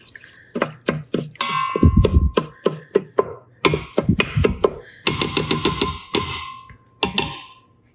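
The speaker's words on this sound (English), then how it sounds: "So just want to get all of these lumps out. Doesn't take but a couple of stirs here." Cooked coconut rice is stirred and broken up in a pot, a quick series of close, sharp scraping knocks and clacks in irregular bursts.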